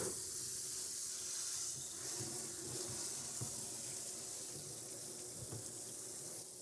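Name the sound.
water spraying from hose through a water valve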